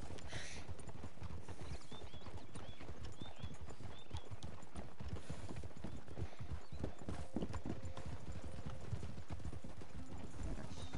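Rapid horse hooves in Red Dead Online clip-clop steadily and close for the full stretch, a busy rhythmic clatter with faint background calls.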